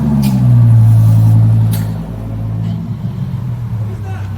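A twin-turbo Dodge Viper engine rumbles loud and close, a deep steady drone that swells then eases, with voices talking over it.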